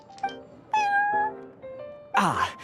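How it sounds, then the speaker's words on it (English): A cat meowing in Genshin Impact at the Cat's Tail, three or four short, clear meows in quick succession, close and fairly loud, ending with a longer rougher cry. "I thought having a cat take care of our new customers would be quite a nice touch."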